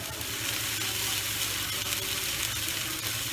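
Onion paste sizzles steadily in a hot pan as the base for a katla fish dish, a dense, continuous frying hiss with no voices over it.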